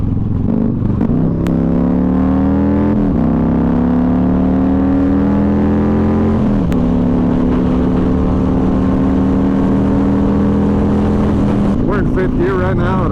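A Yamaha Raider 1900cc cruiser motorcycle runs in top gear at highway speed, its loud, steady engine drone rising gently in pitch across several throttle changes, with heavy wind rush over the microphone throughout.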